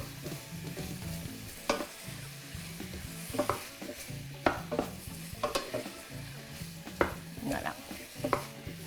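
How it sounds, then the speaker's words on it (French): Sausages and sliced bell peppers sauté in a hot pan with a steady sizzle, while a utensil stirs and scrapes through them in irregular knocks and clacks close by. "je vais juste faire revenir ça. Bien mélanger le tout."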